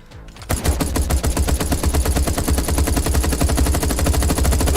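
Rapid automatic gunfire in the shooter FragPunk, a loud, dense stream of shots that starts abruptly after a brief quiet and keeps a steady fast rhythm to the end.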